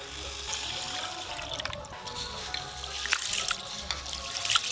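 Water poured over rice being soaked for lemon rice, a steady faint splashing trickle in a home kitchen, continuous with a few brief louder spatters, no talking.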